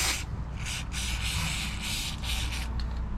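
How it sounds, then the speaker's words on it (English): White lithium grease sprays in short bursts from an aerosol can onto a tailgate latch mechanism, a close, steady hiss with brief pulses and no talking. "I'm just gonna hit it with some white lithium grease now."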